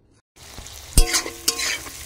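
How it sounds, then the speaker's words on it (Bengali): Meat being stirred in a frying pan at home, with a few scraping strokes and a soft sizzle over about two seconds, close and moderately loud after a brief silence. "এই যে আবার মাংস রান্না স্টার্ট করলাম আমি"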